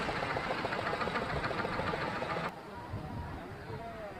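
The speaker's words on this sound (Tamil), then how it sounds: "இன்னொரு படகு வருது ஃபுல்லாக மீனை தூக்கிட்டு." A fishing boat loaded with fish chugs in on Pulicat Lake, its motor a steady low knocking drone that cuts off abruptly midway, leaving quieter rumbling water and ambient noise behind.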